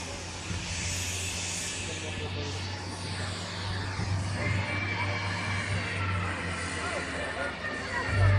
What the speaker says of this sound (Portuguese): Aí está a aeronave C95